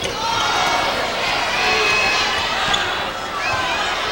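A steady, loud crowd roaring and cheering at a 2004 NCAA Division III women's basketball championship game, sustained without pause, with faint court noise underneath.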